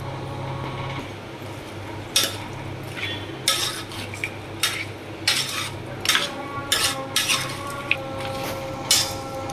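Mutton being mixed by hand or spoon with salt, green chillies and onions in a metal vessel: repeated clinks and scrapes over a low steady background, close and moderately loud.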